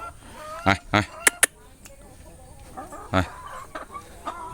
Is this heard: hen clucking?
yes